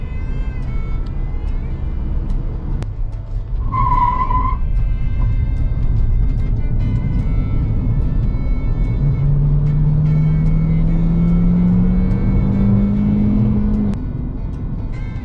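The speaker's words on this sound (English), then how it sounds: "From a dead start, the electric motors produce more power than the tires can handle, and you get a lot of wheel spin if you floor it right away." A Chery Tiggo 8 Pro PHEV plug-in hybrid SUV with electric motors driving the front wheels, heard from inside under a steady loud road roar with a rising whine as it accelerates hard, plus a brief chime early on.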